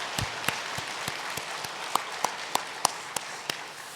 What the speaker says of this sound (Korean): 우리 박수 한번 해드리면